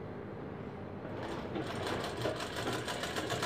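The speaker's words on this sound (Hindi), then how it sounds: "एक सिलाई यहाँ पर बिल्कुल फिनिशिंग के साथ चलानी है।" Sewing machine stitching fabric dori piping, a steady close mechanical whir that grows louder and faster after the first second and a half, then runs evenly with rapid needle chatter.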